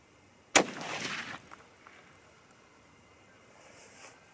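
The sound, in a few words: 30-06 Springfield rifle shots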